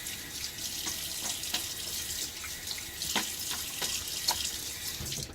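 A bathroom tap runs for a quick rinse during a wet shave with a Gillette razor, a steady, fairly quiet stream of water with occasional splashes and taps against the sink.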